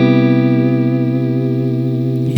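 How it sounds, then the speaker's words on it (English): A major seventh chord rings out on guitar, one sustained strum held loud and steady for a couple of seconds with a shimmering, effected tone and no talking. "so you hear that? That's a major 7."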